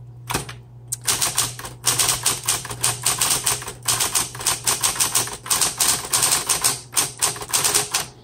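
A 1960s Smith Corona Coronet Electric 12 typewriter being typed on, with fast bursts of sharp key strikes and carriage clatter over a steady low electric motor hum, close and loud, no talking.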